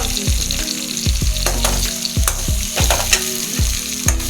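Tomato and green chillies sizzling in a hot pan, a steady loud fry broken by repeated scrapes and thumps of a spatula stirring the mixture.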